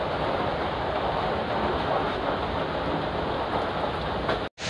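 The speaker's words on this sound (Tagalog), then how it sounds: "Grabe, ulan guys." Heavy rain pours in a dense, steady roar with no letup, broken only by a brief cutout right at the end, during Typhoon Kristine in Bicol, Philippines.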